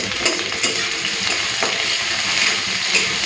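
Dried red chilli, garlic and onion frying in oil make a steady, close sizzling hiss, broken by faint clicks of stirring, with no voices.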